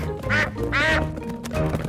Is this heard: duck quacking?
yes